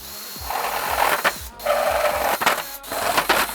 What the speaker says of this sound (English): Let's start off by drilling some holes in this baking plate